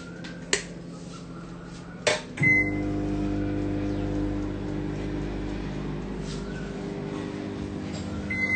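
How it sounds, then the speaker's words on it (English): A microwave oven heating cream and chocolate for a cake runs with a steady, even hum that follows a couple of sharp clicks and a button press, close and unbroken for several seconds. "And I'm just going to pop it in the microwave."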